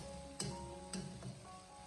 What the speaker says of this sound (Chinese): 将其翻炒均匀，把蚝油的酱香味给它翻炒出来